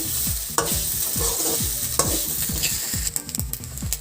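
Goat blood fry with grated coconut being stirred in a pan, a steady rhythmic scraping of the spoon over continuous sizzling and frying, close and fairly loud with no voices.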